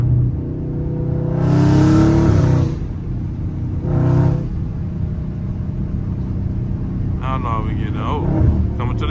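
A Dodge Scat Pack with traction control off revs hard, its engine swelling into two loud bursts of wheelspin, then settling into a lower rumble as a voice speaks near the end.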